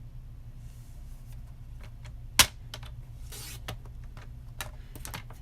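A sheet of paper is cut for a handmade card, giving a faint sharp snap followed shortly by a brief soft swish, with light ticking and clicking over a low steady room hum.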